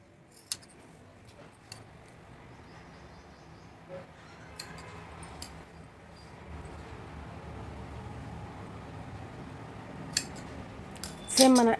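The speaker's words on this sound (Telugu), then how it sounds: "ఇప్పుడు ఇది వేస్టేజ్ కట్ చేసేసి హ్యాండ్ కటింగ్ చేసేద్దాం." Scissors snip through cloth while trimming away wastage before hand cutting a garment, a few sharp isolated cuts and soft fabric rustles, close and fairly quiet, ending with a louder clatter.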